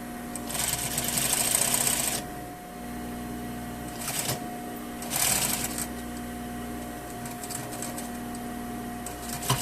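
A sewing machine stitches a zipper into a lined skirt using a zipper foot, with two quiet whirring bursts of stitching separated by pauses, the machine humming faintly throughout.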